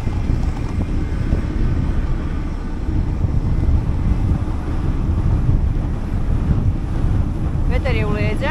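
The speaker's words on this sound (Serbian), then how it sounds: "Vetar je u leđa." Wind roaring past a cyclist descending a steep mountain road in Montenegro, a constant loud rumbling buffet against the microphone with steady rushing noise and no clear speech.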